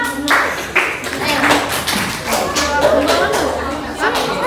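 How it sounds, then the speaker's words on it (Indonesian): Applause for a group of students after their presentation in a primary school classroom lesson: scattered claps and taps over a few seconds, close and fairly loud, with a teacher's voice and children's chatter mixed in. "tepuk tangan untuk kelompok 6"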